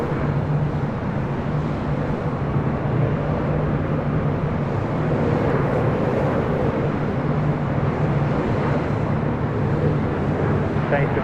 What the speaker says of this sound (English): Asiana A380 preparing for takeoff on 25 left.